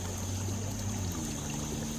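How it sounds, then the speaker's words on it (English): Water drains from a pond through a spillway into a creek, making a steady close trickling and pouring wash that stays continuous and even throughout, with a low hum underneath. "This is right at the spillway where the water drains out of the pond into a creek"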